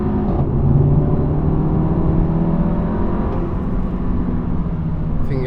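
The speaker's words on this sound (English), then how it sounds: "Thing accelerates quite fast." A Stage 2 tuned Skoda Octavia VRS 230 pulls hard in sports mode, its engine drone steady and rising under strong acceleration, heard from inside the car with no talk.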